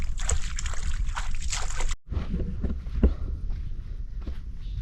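Wading knee-deep across a river on a rural char island: close, continuous sloshing and splashing of legs pushing through water, with a brief pause partway before the churning resumes.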